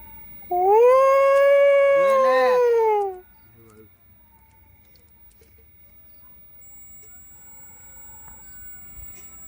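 Dogs howl loudly and close by in one long, wavering cry lasting about three seconds, a second howl briefly overlapping, then near silence.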